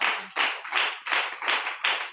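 A congregation claps in church, the claps merging into loud rhythmic bursts of about one per beat in a steady pattern, close and unaccompanied.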